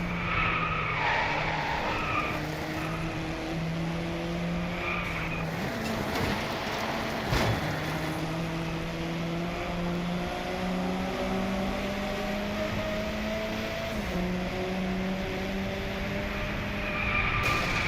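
A Ferrari race car in the video game Driveclub, its engine droning loud and close with rising and falling revs throughout, plus a brief sharp tire or impact noise midway.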